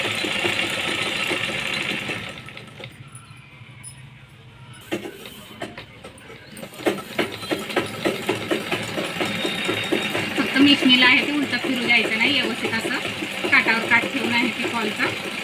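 A sewing machine stitches the pico and fall onto a saree edge, whirring in rapid bursts with a brief pause, close up, while someone talks over it.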